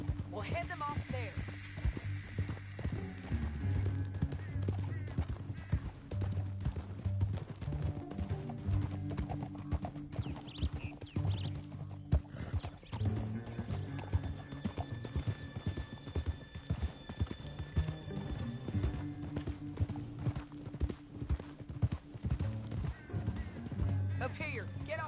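Horse hooves clip-clop at a steady galloping rhythm in Red Dead Redemption 2, with several mounts close by, a brief whinny, and characters talking over the continuous pounding.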